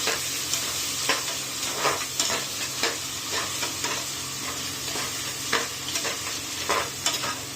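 Steady sizzling of onions sautéing in a pan, with occasional scraping and stirring sounds over a constant hiss.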